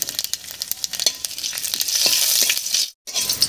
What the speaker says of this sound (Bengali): তেলের মধ্যে দেব দুটো শুকনো লঙ্কা আর 1 চামচ মতো পাঁচফোড়ন